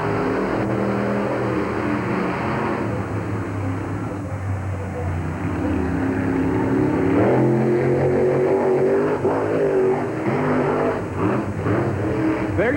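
Monster truck engines roar and rev continuously, loud and rough, with surging bursts and crowd or announcer noise underneath, at a 1989 monster truck race.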